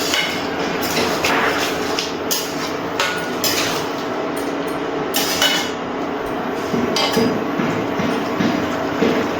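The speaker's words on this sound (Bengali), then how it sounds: "এবার সব কিছু আবার একটু নাড়াচাড়া করে নিচ্ছি।" A metal spoon stirs lau shukto, a Bengali bottle gourd curry, in a pan, giving steady scraping and clinking close by throughout, with no talking.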